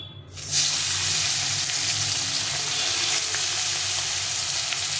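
Tengra fish sizzle and crackle steadily in hot oil after going into the pan, the loud frying hiss rising at the start and holding evenly throughout with no talk.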